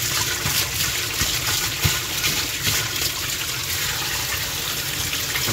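Water rinses gunk from a koi pond filter, a continuous splashing, pouring flow that stays steady and close throughout without talking.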